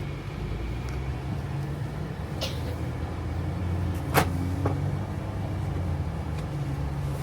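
Road noise fills the cabin of a car driving slowly through a Florida vacation rental community. The low engine and tyre hum is steady and close, broken by a couple of faint interior clicks and a thump, with no talk.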